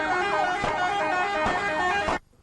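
Tractor horns blaring at a farmers' celebration, a sustained loud, chord-like honk with a couple of brief pulses, cutting off abruptly at the end.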